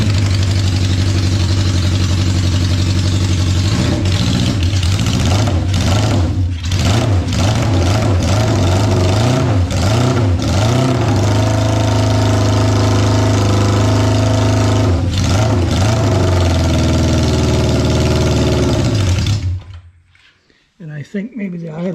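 A 1972 Honda CB500 Four motorcycle engine with fuel system problems idles slowly and unevenly, a steady close rumble with wavering, lumpy beats, before it cuts out near the end.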